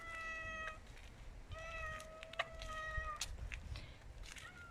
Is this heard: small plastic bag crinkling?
no